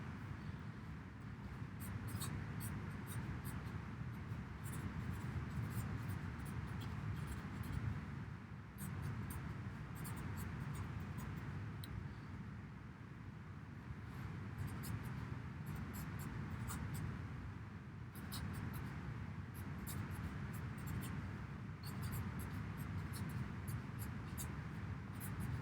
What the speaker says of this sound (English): Let me write this down for you.